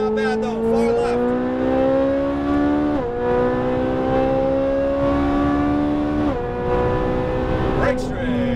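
A Ferrari 458 Italia accelerates hard on a race track, its loud, close engine note climbing steadily with two quick upshifts that briefly drop the pitch before it winds up again.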